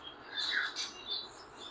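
Gouldian and Bengalese finches in a breeding setup give a few quick, high chirps, soft and fairly close, over a quiet background.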